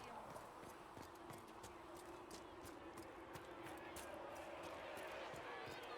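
In the video game Dragon Age Inquisition, an Avvar war nug mount's footfalls patter quickly and evenly in a steady running rhythm, quiet and continuous.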